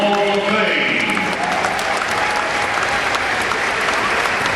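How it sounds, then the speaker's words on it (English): Loud, dense applause from an audience at a high school gym ceremony inducting the first members of the Alton Wall of Fame, continuous and close throughout with crowd noise mixed in. "A nice round of applause for an honor well deserved by the first inductees of the Alton Wall of Fame."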